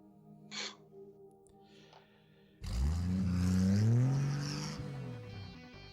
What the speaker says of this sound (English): You hear a vehicle accelerating